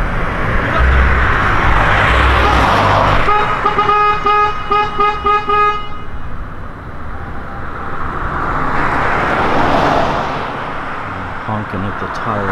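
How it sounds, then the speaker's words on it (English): A car horn toots repeatedly in short rhythmic bursts outside a correctional center, set against passing traffic and wind noise, with a voice talking over the street sounds. "Honking at the tower now."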